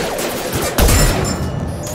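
Gunfire rattles in a firefight in the video game Mass Effect 2, a loud, dense burst of rapid shots with a heavier impact partway through, continuous and close.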